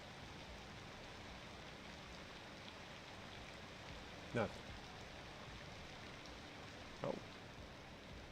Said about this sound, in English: Pouring down rain, always does.